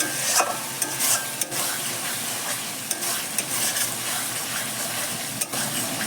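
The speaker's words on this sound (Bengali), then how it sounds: "আর এইটা কষতে কষতে তেল বেরিয়ে আসবে" Masala gravy sautéing in oil in a pan, with a steady sizzle and occasional scrapes and knocks of a stirring spoon, close up and continuous.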